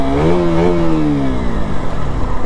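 A motorcycle engine revs loudly up close, rising in pitch and then winding back down into a rough, throbbing idle, with no talking.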